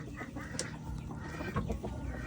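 Rhode Island cross chickens mixed with native birds cluck and murmur close by in a steady barnyard chorus, with a few sharper calls standing out over the low flock noise.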